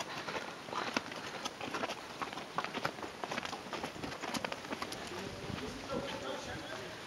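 Horse hooves clip-clop on the stone path at Petra, Jordan, a steady patter of footfalls up close, with people talking over the hoofbeats.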